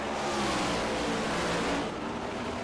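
Race cars in a racing video game at Bristol Motor Speedway, a dense continuous roar of engines at full throttle, loud and steady with a slight dip near the end.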